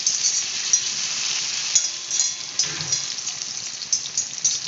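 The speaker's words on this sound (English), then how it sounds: "potato pieces nicely shimmering in the oil" Potato pieces fry in hot oil for a northeastern-style veg jalfrezi, making a steady crackling sizzle with fine popping close by and a few soft stirring touches, with no speech.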